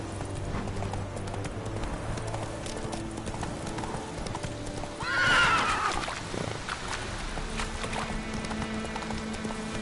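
A horse in The Witcher 3: Wild Hunt gallops with a steady, rapid clip-clop of hooves, and a loud neigh rises in the middle over the game's background sounds.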